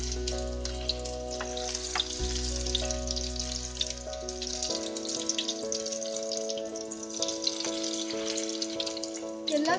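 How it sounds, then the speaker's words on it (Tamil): Stuffed bitter gourd pieces fry in hot oil in a pan, giving a steady close sizzle and crackle throughout, with no talking and faint background tones. "எல்லா சைடும் எண்ணெயில நல்லா குக் ஆகுற மாதிரி பார்த்துக்கோங்க"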